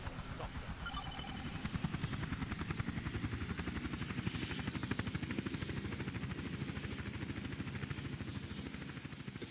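Helicopter in the video game Madness: Project Nexus, a steady, rapid rotor chop that pulses evenly for about nine seconds at moderate level, with no talking.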